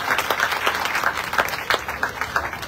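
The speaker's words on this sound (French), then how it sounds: "Donc on applaudit monsieur Hamdi Ismail, s'il vous plaît." Audience applause at an award ceremony, a crowd clapping steadily with distinct individual claps standing out in a lively, continuous patter.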